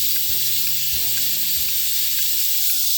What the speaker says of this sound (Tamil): ஓகே, இது ஒரு 7 விசில் வந்துருச்சு.